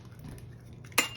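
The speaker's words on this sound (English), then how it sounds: "I'm going to crack them in here first so we don't get shells" A single sharp crack of an egg against a bowl rim for matzo ball batter, a clear short hit near the end over a low steady kitchen hum.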